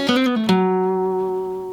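A one-finger blues guitar lick played at full speed with hybrid picking, a quick burst of several plucked notes at the start that settles into a ringing, sustained note fading out, loud and close with no talk.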